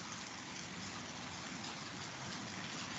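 Steady rain falls continuously as a dense, even hiss heard at moderate distance, with no voices or other sounds breaking through.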